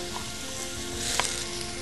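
Pork meatballs pan-fry, giving a brief, steady, close crackling sizzle with a slight swell and one small pop.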